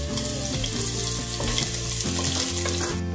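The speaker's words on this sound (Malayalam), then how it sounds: "ഞാൻ ഇതിലേക്ക് നീളത്തിൽ അരിഞ്ഞു വെച്ച ഒരു കുറച്ച് സവാള ആഡ് ചെയ്ത് കൊടുക്കുന്നു." Long-sliced onions sizzle and fry in hot ghee in a pan while cooking ghee rice, a steady, close crackling hiss under soft background music.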